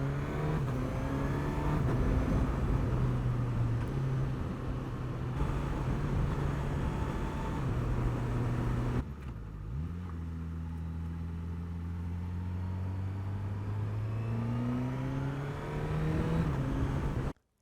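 A 2022 Suzuki GSX-S1000GT motorcycle cruises a country road, its engine humming steadily with rising and falling pitch as it shifts and accelerates, under constant wind rush, no speech.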